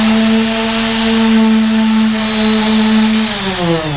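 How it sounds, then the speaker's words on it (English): Orbital palm sander running on a wooden Viking chair: a loud, steady motor whine with strong sustained tones, drifting slightly near the end and heard alone without speech. "you'll use an orbital sander more than any other sander"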